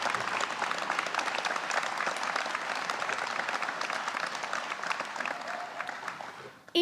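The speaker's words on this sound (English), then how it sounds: "Please give a round of applause to some of Penn's leading volunteers." Audience applause fills an alumni award of merit gala hall, a steady, fairly faint wash of many hands clapping that holds for several seconds and then tapers off at the end.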